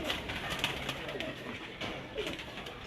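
Pigeons on a rooftop coo faintly amid a busy, noisy outdoor background, with a few soft rolling calls scattered through, some distance away.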